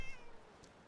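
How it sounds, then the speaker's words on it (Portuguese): A cat meows once inside the Fallout 4 game world, a short, faint, rising cry that fades quickly, with no talking over it. "Ó, gatinho."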